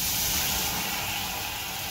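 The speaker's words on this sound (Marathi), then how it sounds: "थोडस मी पाणी घालून घेते कढईत" Water splashed into a hot kadhai on a gas stove sizzles with a loud, steady steam hiss that fills the whole moment, with no voices over it.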